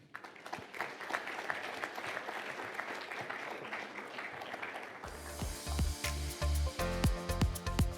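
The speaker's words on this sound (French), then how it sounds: "va applaudir Eric et Sona Asbel qui fait un travail énorme" Audience applause at an award ceremony in Luxembourg, full steady clapping for several seconds, then cut to loud rhythmic music with heavy beats.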